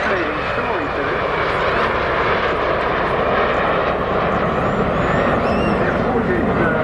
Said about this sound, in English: Now this lead aircraft flown by Mark Petrie has a fascinating story to it